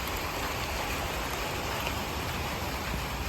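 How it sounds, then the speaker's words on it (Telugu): Steady rain falls outdoors in a continuous, dense hiss that stays loud and even throughout, with no voices. "ఇంకా వర్షం చూసినారు కదా."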